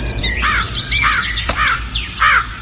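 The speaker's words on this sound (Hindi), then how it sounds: "सिपाही को देख कौवा कांव कांव करने लगा।" Repeated harsh bird calls, like a crow cawing, sound over steady low background noise, several in a row with a brief click in between.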